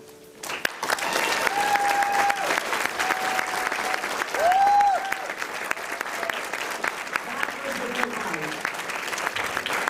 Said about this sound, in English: And the applause said it best.